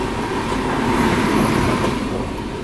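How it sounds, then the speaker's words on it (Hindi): Trains running side by side near Dewas Junction, a Humsafar Express pacing the Malwa Superfast: a steady, loud, close rumble of wheels and carriage noise with a broad roar throughout, no talk. "अभी ये देखो भाई साहब पैरेलल चल रहा है देवास जंक्शन से पहले मालवा सुपरफास्ट के साथ"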